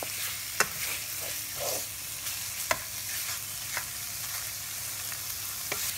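Sliced pork belly and pork neck sizzle steadily in a hot pan for a Thai spicy green bean stir-fry. Occasional sharp clicks from a utensil stirring and scraping the pan sound close and alone.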